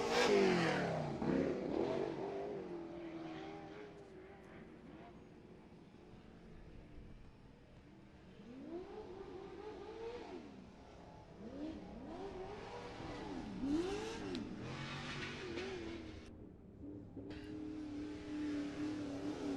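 Racing truck engines rev and roar past at a speedway finish line, one damaged truck among them, with rising and falling passes at moderate distance and some crowd and track ambience.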